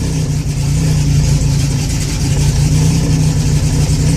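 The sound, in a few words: race car engine idling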